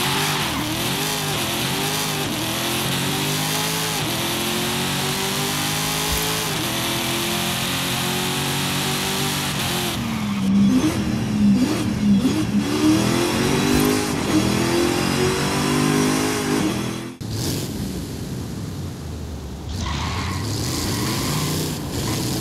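Racing and twin-turbo V8 engine swaps in Forza Horizon 5, a series of loud revving runs rising and falling in pitch, several distinct engine notes one after another with sharp cuts between them, no talk.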